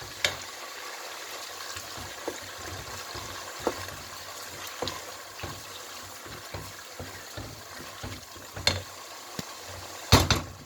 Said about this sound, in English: First, I will have to fry the tin tomato